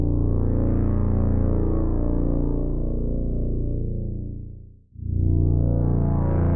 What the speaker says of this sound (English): The chorus is what really gives this type of bass its wide feel.